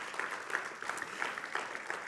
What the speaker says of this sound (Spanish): ¿No le puedes dar un aplauso a Jesús por eso?